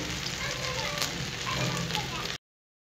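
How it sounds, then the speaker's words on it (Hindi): Okra (bhindi) in a pan sends up a steady, soft frying sizzle, an even crackle that runs for about two seconds and then cuts off abruptly into silence, with a voice faintly present. "ये बहुत अच्छे तरीके से फ्राई हो जाएंगी"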